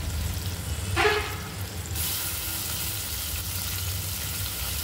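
Coriander seeds and white sesame sizzle and crackle as they dry-roast in a pan, with a brief stirring scrape partway through and then a steady, soft hiss.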